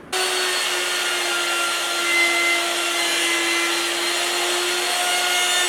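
A power tool whines steadily as it rounds over cut holes in cherry and maple wooden succulent planters, one continuous loud, even drone that holds without a break.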